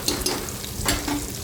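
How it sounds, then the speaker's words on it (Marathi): Chopped onion sizzles and fries in a hot pan while being stirred for a vegetable pulao, with a steady crackling hiss and a few soft scraping stirs, close and alone. "आणि कांदाही व्यवस्थित परतून घ्यायचा आपल्याला, त्याचा कलर चेंज होईपर्यंत"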